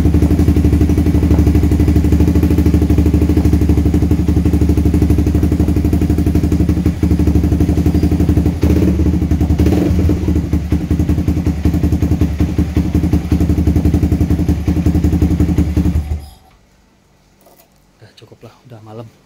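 Honda CS1 250R PGM-FI motorcycle engine running loud and close, a steady rapid idling chug with clattery thumps, cutting off abruptly near the end to quiet; someone talks over it.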